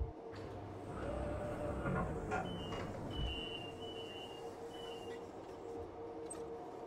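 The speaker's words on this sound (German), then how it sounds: "Gerade noch eine S-Bahn." An S-Bahn commuter train rolls through the station at a new airport, a steady rumble of wheels and carriages with a thin squealing whine partway through, moderately distant and steady, with no talking.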